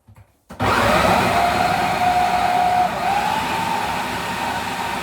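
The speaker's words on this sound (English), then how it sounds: "So I'm going to blend this 5 minutes, have a look, see if it's nice and smooth." A blender runs steadily as it purées a vegan Alfredo sauce, starting abruptly after a brief moment of quiet and then holding a loud, even whir with a slight shift in pitch partway through.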